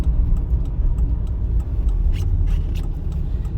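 Manual-transmission car driving on a road during a driving-test lesson, a steady close low engine rumble inside the cabin with faint clicks near the end as the gear change happens.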